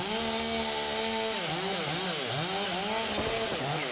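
A chainsaw runs steadily and close while cutting through the crown of a storm-damaged tree trunk, its engine pitch dipping and rising under load as the trunk comes under tension; the roar continues without pause and nobody speaks.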